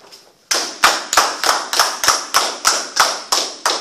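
A church congregation clapping in unison, about ten loud, evenly spaced claps in a steady rhythm that begin abruptly after a brief quiet moment.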